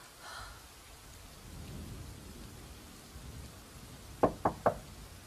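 A storm in the horror adventure game The Charnel House Trilogy: steady rain and low rolling thunder, with three sharp knocks close together near the end.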